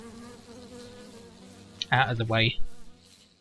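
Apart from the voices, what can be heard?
bees buzzing in Minecraft (Wanderlust Reloaded modpack), video game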